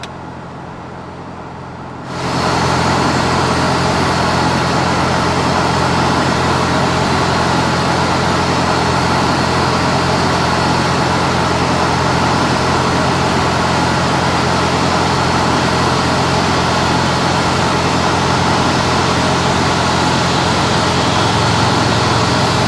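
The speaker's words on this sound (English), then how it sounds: "Starting engine 1." Airliner engine 1 starting in the FSX flight simulator: quieter cabin noise jumps at about two seconds into a loud, steady, broadband engine roar that holds for the rest of the clip.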